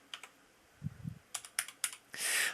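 Quick, light keystrokes on a computer keyboard as a folder name is typed on a USB drive, a short uneven burst of clicks ending in a brief hiss-like noise.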